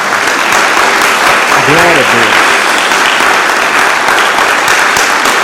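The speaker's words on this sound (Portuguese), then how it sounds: "Dê uma salva de palmas a Jesus." A church congregation breaks into loud, sustained applause that fills the whole stretch. A voice calls out briefly over the clapping.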